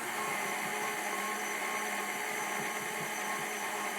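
An electric mixer whirs steadily through chocolate chip cookie dough cupcake batter in a bowl, a faint continuous hum and whine with no talk.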